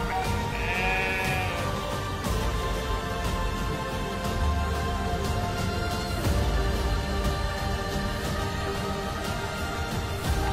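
A large herd of sheep and goats bleats continuously as Gaddi herders drive it toward the Kangra valley in Himachal Pradesh, with many overlapping calls, near and far, over constant shuffling and movement.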